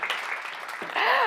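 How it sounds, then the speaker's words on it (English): An audience at a magician's performance applauds for Lily, a brief, dense wash of clapping that swells louder toward the end. "Round of applause for Lily,"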